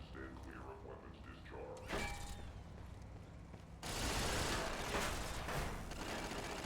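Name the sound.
turrets firing in video game Fallout New Vegas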